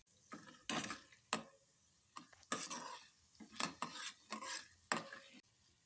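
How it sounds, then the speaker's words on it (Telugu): Tempering spices, ginger and green chillies fry in a pan for poha while a spoon stirs, giving irregular clinks and scrapes against the metal over a faint sizzle. "పోపు దినుసులు వేగుతున్నప్పుడు అల్లం పచ్చిమిరపకాయ కలిపి ఇలా వేయించుకోవాలి."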